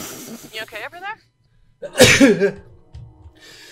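One loud, sharp human sneeze bursts out midway, between stretches of spoken voice in a noisy reaction to a horror game.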